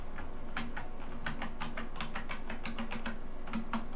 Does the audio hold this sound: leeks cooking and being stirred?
no